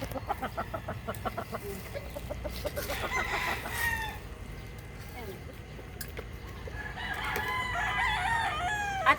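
Roosters crow and cluck nearby in a steady stream of calls, with a long crow rising toward the end, while a person talks over them.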